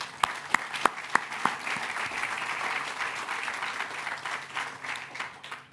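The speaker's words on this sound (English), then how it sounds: "I think that deserves applause." An audience applauds at a train station dedication ceremony. A few loud individual claps open into sustained crowd clapping that holds steady throughout.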